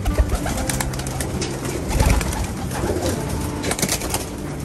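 Pigeons of a Japan racing line kept in a breeding loft coo and flutter continuously, with a dense, steady layer of bird sounds throughout and no talk.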